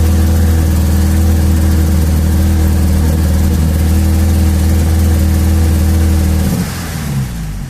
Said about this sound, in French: Bah là on entend qu'il manque quand même au moins un cylindre.